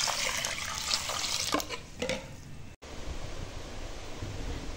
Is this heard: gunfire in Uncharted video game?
no